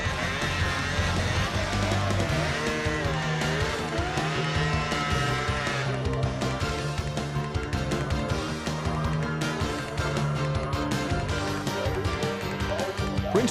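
Modified open-class sleds of 250-plus horsepower climbing a hill at the 1998 Jackson Hole World Championship Snowmobile Hillclimb: continuous loud, high-revving engine scream, dense and steady throughout.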